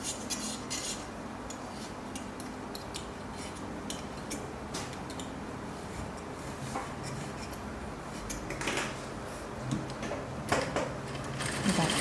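An industrial single-needle sewing machine fitted with an accessory attachment stitches fabric in quiet, rapid mechanical bursts, with small clicks and taps between runs and faint talk at times.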